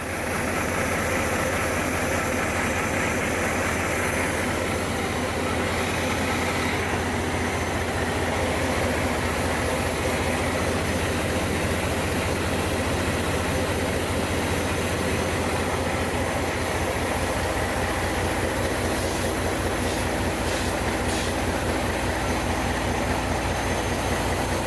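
Diesel engine aboard the M/V Steve Irwin ship running during warm-through, a loud, continuous low rumble and drone in the engine room with a slight surging unsteadiness, mechanical hum and hiss throughout.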